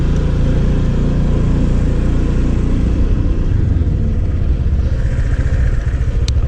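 A Honda PCX scooter ridden by a first-time rider gives a steady, close engine rumble with mild throttle changes, with wind noise throughout and no talking.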